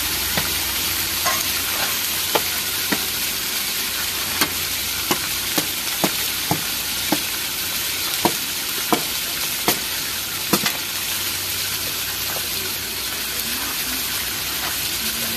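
Eels frying in a pan sizzle steadily, with repeated sharp clicks and taps of stirring or scraping utensils scattered throughout, close and moderately loud without speech.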